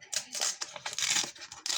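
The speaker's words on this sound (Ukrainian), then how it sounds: "пакетик трохи порвався, але нічого" A small paper surprise packet is torn open by hand, giving a close series of crisp ripping and crinkling bursts separated by short pauses.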